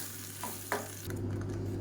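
Thick horse gram batter bubbling in a pot while a spoon stirs it, giving soft scraping strokes and a quiet, steady simmering bubble, close and faint.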